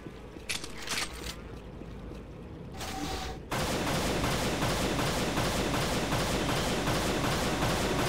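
Rocket launcher in Unreal Gold (Return to Na Pali) fires amid loud, dense, sustained roaring blasts that fill the scene after a few sharper bursts, with no talk over it.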